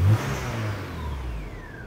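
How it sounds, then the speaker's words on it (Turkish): A Volkswagen Polo 6N engine idles steadily and its speed rises once the air conditioning kicks in, giving a close, continuous hum that lifts slightly in pitch. "Aracımız rölantiyi otomatik olarak yükseltiyor."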